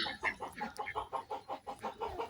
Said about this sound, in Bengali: তো এই ময়না পাখিটা কিন্তু